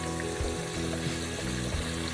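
Chicken pieces for a curry cook in a covered pot, giving a steady, soft sizzle and bubbling with faint watery crackles throughout the short moment.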